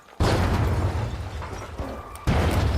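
Grenade blasts in the video game The Finals: two loud, close explosions, the first with a long rumbling decay and the second bursting in near the end.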